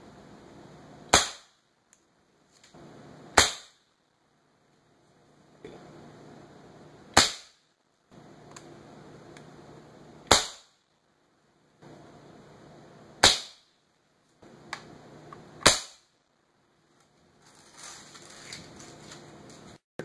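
Airgun pellets, including Gamo PBA, H&N Barracuda and RWS Hyper Velocity steel-core pellets with plastic sabots, strike a clay block: six sharp, loud single cracks spaced a few seconds apart, with quiet handling noise between shots.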